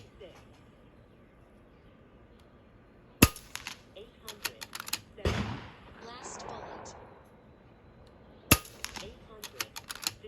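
Air rifle pellets are fired at a target through a first-focal-plane scope, two sharp cracks several seconds apart, each followed by a flurry of clicks and handling noise, with a brief rustle between them.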